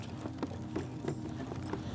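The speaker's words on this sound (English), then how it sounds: "The horses learn to run on a more difficult terrain in the flatter desert near home." Arab horses gallop over flat desert ground. The hoofbeats come as soft, rhythmic thuds at a moderate distance and fairly quiet.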